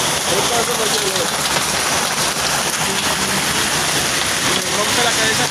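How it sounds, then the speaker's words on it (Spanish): Summer hail pours down in Ciudad Real, Spain, a dense, steady roar of pelting ice that fills the whole moment without letup, with faint voices barely showing beneath it. "Esto lo llaman granizo mata gente"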